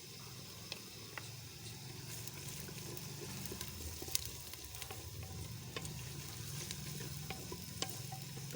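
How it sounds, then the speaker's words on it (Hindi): Ginger garlic paste frying in a pan for a cauliflower dish gives a soft, steady sizzle with scattered light pops and scraping stirs, quiet and close, with no talking. "इसको हल्का सा फ्राई करेंगे।"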